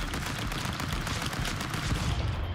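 Dense rapid gunfire from the Stick Fight video game, a nonstop barrage of bullet shots at steady loudness throughout, with no voices.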